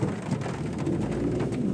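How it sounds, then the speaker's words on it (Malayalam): Heavy rain falls outside a restaurant, a dense, steady roar close by that continues without a break and with no voices. "നല്ല മഴയുണ്ട്"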